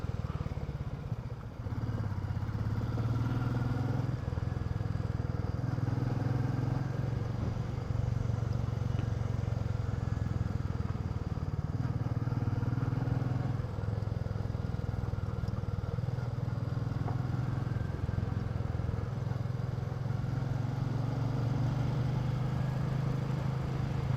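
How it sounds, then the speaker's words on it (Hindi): Several motorbikes ride together along a mountain road between Salooni and Bhaderwah, their engines droning steadily and close for the whole stretch with a low rumble and faint rattle, no talk over it. "हमारी सारी बाइक साथ साथ ही चल रही हैं अब तो"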